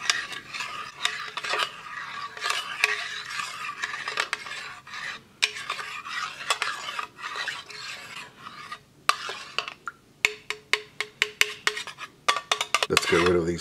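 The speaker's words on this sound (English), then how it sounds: "All right, let's stir it up." A spoon stirs a French 24-hour ration meal in a Swedish mess kit, scraping and rasping against the metal tin in a continuous close run, ending in a quicker series of sharp taps and knocks.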